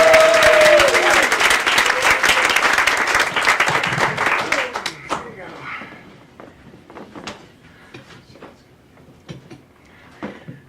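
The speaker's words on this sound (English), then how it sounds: "start clapping right now." Loud applause from a comedy club audience at Gotham Comedy Club, dense and sustained for about five seconds over a brief voice, then thinning to scattered claps and fading.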